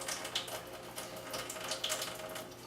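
Steady rushing water runs from a tap into a winemaking container, a continuous close splashing hiss with no talking.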